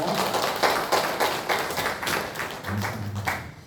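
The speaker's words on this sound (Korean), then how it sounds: "우리 모든 영광을 우리 하나님께 박수로 올려드리겠습니다." Church congregation clapping together at a Sunday worship service in a small church, a brisk run of hand claps lasting a few seconds, fairly close and alone without talk.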